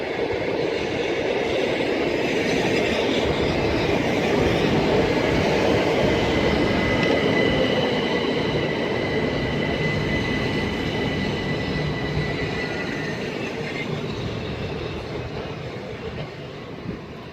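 Southeastern electric unit 375812 rumbling steadily past Sittingbourne station on the Chatham Main Line, a loud sustained roar of wheels and motors with faint high tones, easing slightly toward the end.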